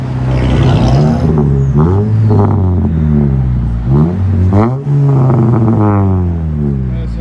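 Turbocharged 2.0-litre four-cylinder 2013 Cadillac ATS with resonator and muffler deleted, revving loudly up and down in repeated sharp throttle blips close to the exhaust, raspy and brash, with no talk.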